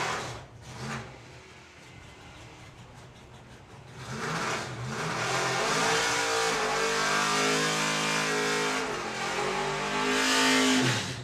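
A Plymouth Superbird nostalgia super stock drag car with a 572 cubic inch V8 roars loud and close, first idling and blipping, then building into a sustained high-revving pull that rises and holds before tapering.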